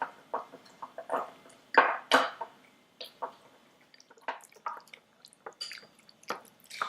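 Lean pork with soy sauce and minced garlic being stirred in a bowl, giving soft wet squishing and smacking sounds in irregular bursts, close and fairly quiet, with no talking.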